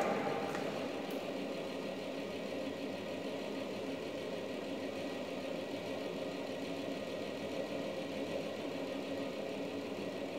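Universal governor apparatus running at increased speed, a steady mechanical whir and hum with fine rhythmic clatter, continuous and moderately near throughout.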